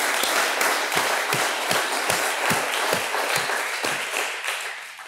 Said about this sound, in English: So I clap again